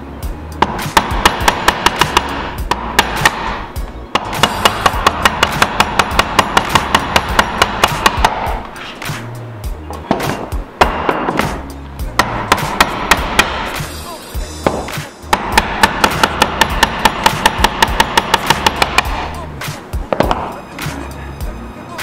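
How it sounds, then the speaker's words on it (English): Mallet striking a chisel to chop out dovetail waste for a built-in bench seat, producing rapid, sharp wooden knocks in long bursts with brief breaks, close and loud. "I'll go from every side, only two taps, and then I'll use a smaller chisel and I can undercut the center"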